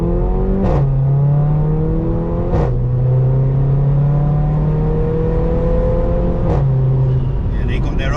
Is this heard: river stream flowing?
no